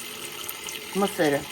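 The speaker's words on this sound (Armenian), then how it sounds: "Հիմա պղինձը կլվանամ" Tap water runs over a copper pot being washed, a soft splashing trickle in the background, with a short spoken word near the end.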